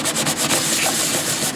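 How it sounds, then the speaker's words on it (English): Steady, dense rasping of a plastic speaker enclosure mold piece being rubbed back and forth on sandpaper in quick repeated strokes, close and continuous. "a little bit of sanding on a piece of sandpaper like so"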